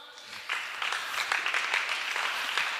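A group claps at a Sunday children's church gathering, a dense, steady round of applause that holds for a few seconds, close and fairly loud, with no one speaking.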